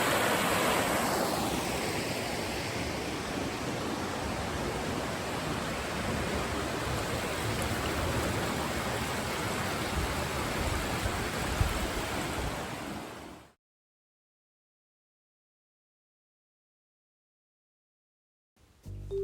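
A creek or river flows steadily below a high bridge on mountainside land, a continuous broad rushing wash heard close and alone for about thirteen seconds before cutting to silence.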